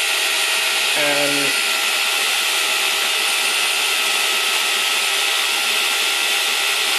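A BLDC motor driven by an ESC spins at high speed, around 39,000 RPM, giving a loud, steady high-pitched whine that holds for the whole stretch, with a brief spoken word near the start.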